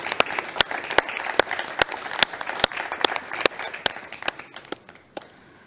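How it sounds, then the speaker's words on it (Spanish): Audience applause at a Costa Rican ceremony commemorating the abolition of the army, a dense steady patter of many hands with sharp individual claps standing out, fading near the end. "un fuerte aplauso"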